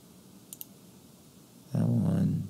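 Two quick, faint keyboard clicks tap close together early on, like keys struck while working in AutoCAD, followed later by a louder burst of sound.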